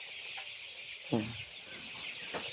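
Chickens on a farm give a couple of brief, faint clucks against a quiet background hiss, spaced apart and fairly close.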